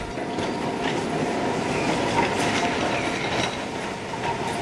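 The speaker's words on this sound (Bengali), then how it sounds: "ঘড়ঘড় করে একটা ডালহৌসিগামী ট্রাম এগিয়ে আসতে দেখে" A tram rumbles steadily as it approaches, with a rhythmic clatter of wheels, a continuous heavy low roar that stays loud throughout.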